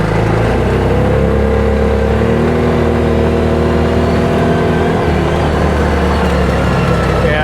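A 2019 Massimo T-Boss 410 UTV drives in high range with four-wheel drive off, its engine droning steadily and loudly up close, with a voice talking over it.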